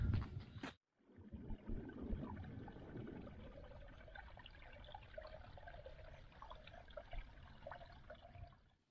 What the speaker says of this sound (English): This is my first sign of water.